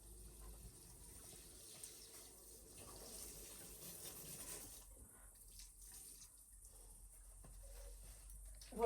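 Water runs steadily from a tap, splashing into a sink as dill is washed, with a few soft handling sounds; the flow eases slightly partway through.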